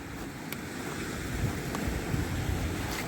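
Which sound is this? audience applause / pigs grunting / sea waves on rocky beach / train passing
sea waves on rocky beach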